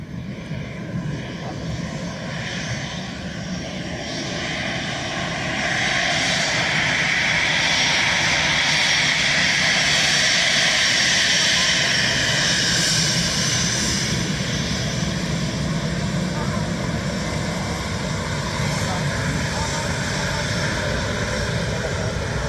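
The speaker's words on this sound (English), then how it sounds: "Patrz jak blisko kurwa do samolotu." An airliner passes close by at Dublin Airport, its jet engine roar swelling from a moderate rumble to a loud, sustained whoosh that holds steady and then eases slightly.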